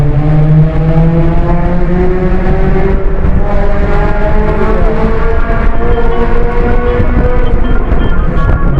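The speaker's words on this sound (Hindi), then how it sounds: "गाड़ी वाले के साइलेंसर, जो सराउंडिंग में जो आवाज़ आ रही है ऐसे आ रही है धमाके जैसी" Loud motor vehicle traffic on a road through the Shangla Valley in Khyber Pakhtunkhwa, Pakistan, with engines droning and rising in pitch steadily throughout; no distinct blast-like exhaust bangs stand out.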